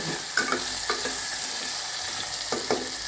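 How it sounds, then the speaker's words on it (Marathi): Finely chopped boiled potato is stir-fried in a pan, with a steady sizzle broken by several distinct scrapes of a spoon stirring against the pan close by. "आता त्याच्यामध्ये हे उकडलेला एक बटाटा बारीक चिरून मी घालतेले आहे। छान परतून घ्यायचं।"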